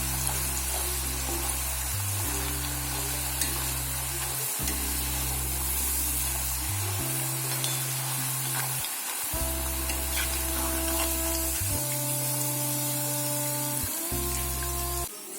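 Potato French fries deep-frying in hot oil, a steady loud sizzle and hiss running throughout with no talking, while a low tonal hum sits underneath.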